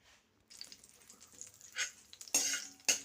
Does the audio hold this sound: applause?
no